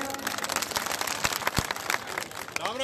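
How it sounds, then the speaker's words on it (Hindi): Applause from a crowd at a Gurjar reservation rally, a faint, dense patter of many hands clapping steadily throughout, heard from a distance. "एक बार जोरदार तालियां"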